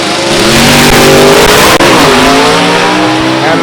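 Drag racing cars launching at a racetrack, among them an automatic Oldsmobile, a loud roaring engine surge with rising pitch and a brief tire squeal, close and continuous without speech.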